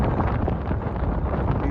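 Cold wind buffets the microphone on a jetty along the Great Yarmouth seafront near Britannia Pier, a steady, loud low rumble with gusty fluctuations throughout and no talk.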